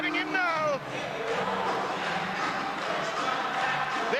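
A live Sheffield basketball crowd in 1998 chants at a departing player. The mass of voices is loud and sustained, with a sharper whistle-like call at the start and a commentator talking over it.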